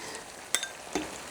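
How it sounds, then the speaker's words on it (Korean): Cabbage and other vegetables stir-frying in a home kitchen pan give a steady, close sizzle, broken by two brief clinks of a utensil against the pan. "양배추 아주 살캉하게 익을 정도만 볶고 마무리할게요."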